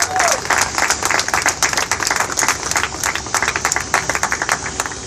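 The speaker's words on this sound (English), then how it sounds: "give them one more little round of applause." Outdoor crowd at an anti-bullying rally in front of a Board of Education building breaking into steady applause, dense rapid clapping from many hands for several seconds, with a voice briefly heard.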